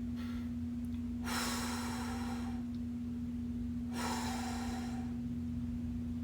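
Heavy breathing during a stick mobility workout class, two loud drawn-out breaths close to the microphone over a steady electrical hum, with no talking.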